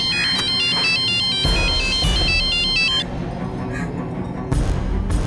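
A phone ringtone of an outgoing call plays loud and close, a repeating electronic melody of bright alternating tones for about three seconds before cutting off into a low background rumble.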